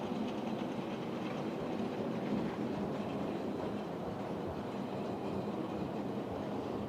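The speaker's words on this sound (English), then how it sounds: "my Scotsman is chugging around here quite happily" A model Flying Scotsman locomotive runs around its track with a steady rolling rumble and soft clatter, close by and continuous, with no pauses.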